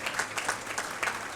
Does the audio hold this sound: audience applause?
yes